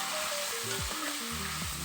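Fried masala sizzles and crackles in a hot pan as it is stirred, a steady close frying hiss with a few scraping strokes and no talk.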